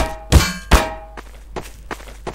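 Glass being hit in the video game Garry's Mod, giving two loud, close metallic clangs with a ringing tone, followed by several fainter knocks.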